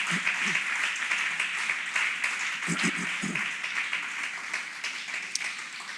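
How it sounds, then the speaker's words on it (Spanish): A church congregation claps together in a steady, dense round of applause lasting several seconds, with a few low voices rising briefly partway through. "Dale una ofrenda de palmas al Señor."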